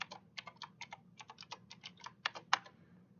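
A password is typed on a computer keyboard in quick, uneven bursts of crisp key clicks, about two dozen presses, close and clear with no talking.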